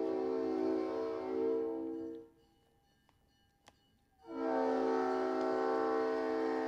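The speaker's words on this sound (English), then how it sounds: "I'm trying to let this train pass." A train passes with a steady, loud rumble of rail cars that fades away to near silence in the middle, then swells back up to a full, loud roar.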